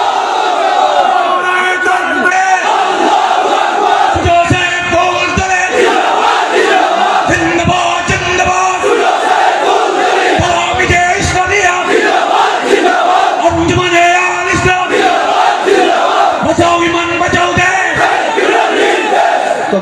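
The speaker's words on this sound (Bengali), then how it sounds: "তকবীর না, এখন দেবেন না, স্লোগান অনেক করেছে।" A large rally crowd chanting in unison, loud and close, with rhythmic surges of massed voices repeating slogans throughout.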